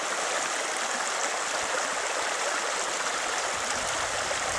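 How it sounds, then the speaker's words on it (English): A medium-to-small river runs over bedrock at a gold-prospecting spot, giving a steady, close rushing and splashing wash with no pauses and no talk. "this is what you want to look for in any river that's, you know, medium to small size like this one is"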